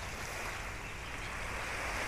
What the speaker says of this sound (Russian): а вы послушайте шум прибоя.